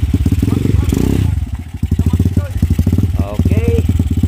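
A trail motorcycle on the Linong trail in Baguio, Benguet, chugs close by with a pulsing, throbbing engine note that briefly dips and then picks up again, while people talk over it.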